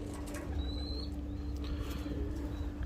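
A show-quality pigeon from a Dubai pigeon club, held in the hand, gives soft cooing and a few thin calls over a steady low hum of background noise, with no talking.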